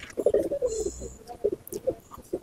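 A Madrasi pigeon in a loft coos close by in a series of short throaty bursts, repeating several times with brief gaps, amid faint background noise.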